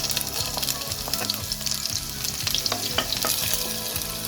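Chopped chili dropped into hot oil in a pan while cooking a Bregg cake, sizzling and crackling steadily throughout with occasional stirring scrapes, close and fairly loud.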